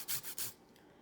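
Fresh lime zest grated for a key lime pound cake: a few quick, close rasping strokes against a grater, two or three bursts of scraping in about half a second before trailing off.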